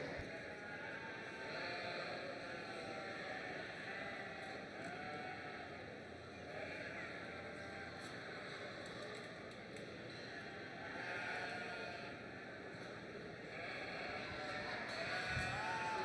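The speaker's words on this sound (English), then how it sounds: "First class of these Katahdin ewes" Katahdin ewes bleat in a fair show ring, repeated calls rising now and then over a steady hum of the crowd and hall, with no clear talk.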